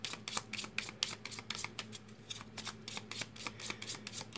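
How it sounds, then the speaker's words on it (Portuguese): A deck of cards is shuffled close by, making a quick run of crisp riffling bursts in a steady rhythm, with no talk over it. "Eu vou embaralhar."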